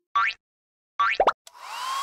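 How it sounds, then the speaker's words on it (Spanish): A hair dryer in a cartoon bathroom scene switches on and keeps up a steady whirring hiss after a few quick cartoonish plops and boing-like effects. "es un secador de pelo"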